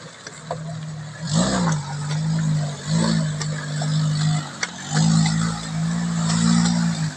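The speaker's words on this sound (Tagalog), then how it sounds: "Kala nyo, sasakyan lang nadaan dito" A car engine drones steadily nearby, rising and falling as it revs and passes, with a few sharp clicks over the hum and no clear talk.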